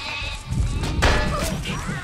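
Sheep bleating in the Overlord video game, a couple of close, loud, wavering bleats that overlap one another against a little game background noise.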